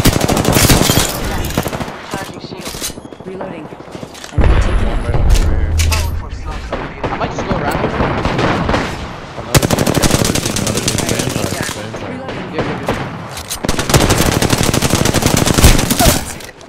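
Rapid bursts of automatic gunfire and explosions in a fast team shooter game firefight, loud, repeated volleys with short pauses, while players talk over the action.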